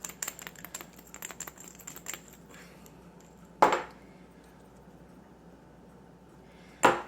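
Utensils stir a chickpea salad in a bowl with a run of quick light clicks and scrapes, followed by two sharp, louder clinks a few seconds apart, with no voices.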